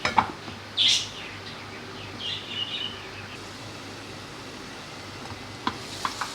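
Tomatoes fry in a pan for a minced meat stew, giving a soft, low sizzle broken by a few brief stirring clatters and clinks.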